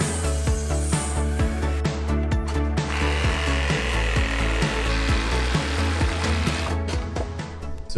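A power saw cuts through a wooden brace for a backyard build, its steady rasping motor running loud and close for the whole span with rhythmic stroke pulses and no voices.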